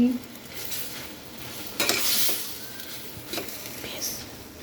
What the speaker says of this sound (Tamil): இப்போ நம்ம சாதத்தை போட்டுட்டு மிக்ஸ் பண்ணிட்டா தக்காளி சாதம் ரெடி